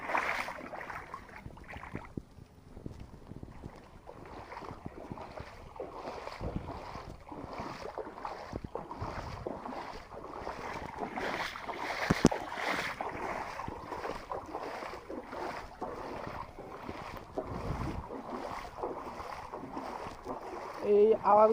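Feet wade through deep rainwater flooding a street in Tongi, making a steady, rhythmic slosh with each step, close by under a wash of wind noise.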